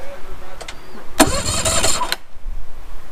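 Yamaha 115 two-stroke outboard boat engine cranking over for about a second during a cylinder compression test, a loud, dense whirring burst with a faint click before it and quiet afterward.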